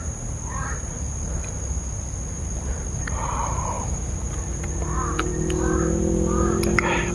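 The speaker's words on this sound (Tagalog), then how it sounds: "Kalit na kalit yung mga uwak mga idol." Several crows caw in short bursts against a steady background of insect buzz and low rumble, the calls moderately distant.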